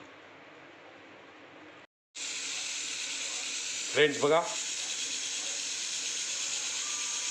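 A pressure cooker cooking mixed vegetable khichdi on a gas stove suddenly releases a loud, steady steam hiss that continues to the end, with a short spoken phrase partway through.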